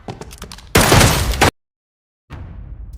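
A single loud gunshot in a film scene bursts out sharply after brief quieter sounds, cuts to dead silence, and then the scene's ambient sound resumes.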